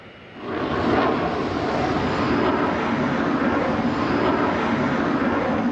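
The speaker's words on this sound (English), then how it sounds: "Cheli flaunts the plane's maneuverability to the onlookers at this year's Paris Air Show" A Eurofighter Typhoon jet roars overhead during a flying display at the Paris Air Show, a loud, sustained broadband engine rush that swells at the start and holds steady, with no voices.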